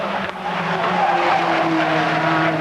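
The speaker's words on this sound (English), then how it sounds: "Brancatelli right there behind Andy Rouse in the Ford" Touring cars racing at Silverstone in the 1988 British championship, including Andy Rouse's Ford, with engines roaring loudly and steadily and tires squealing as the cars pass close by.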